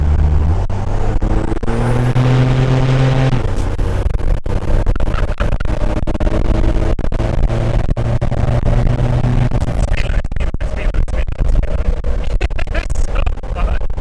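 Loud Cummins diesel truck exhaust, a deep steady rumble with strong low harmonics that holds for most of the stretch, rising in pitch briefly near the start, with scattered clicks and a voice talking over parts of it.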